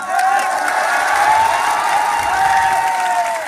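A crowd at a religious speech gathering claps and cheers in a steady, dense wash of applause that stays at an even level throughout, with some voices rising through the noise.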